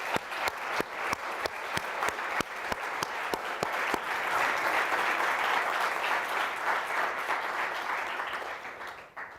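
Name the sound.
audience applause at award ceremony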